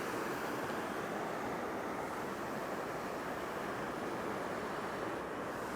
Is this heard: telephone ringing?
no